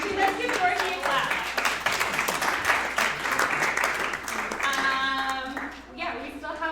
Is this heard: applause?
yes